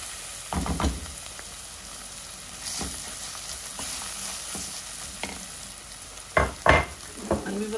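Onions fry in a pan for Turkish lentil soup, a low continuous sizzle broken by sharp scraping clatters as a spoon stirs them, with the loudest cluster of stirring near the end.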